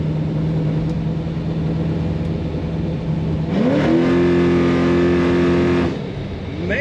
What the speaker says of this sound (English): Let's hit the throttle one more time, that's the fun part.